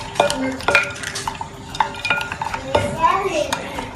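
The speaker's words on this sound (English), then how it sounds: "You stir your sugar nicely" Stirring sugar into asaana, a Ghanaian drink, with a spoon clinking and scraping against the container in quick irregular strokes, close and fairly loud, with some brief voices in the background.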